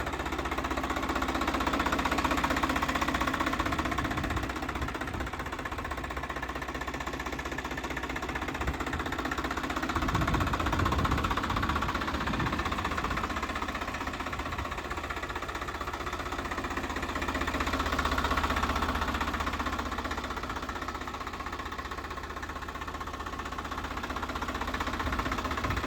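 A 2022 Mahindra Yuvo 254DI tractor with 790 hours idles steadily nearby, a continuous low rumbling chug with a faint knocking rhythm that holds the whole time.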